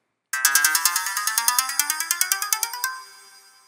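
Electronic synthesized tones step through a scale played by a C program receiving Open Sound Control, in an even, quick rhythm, each note bright and bell-like, with the final note ringing away.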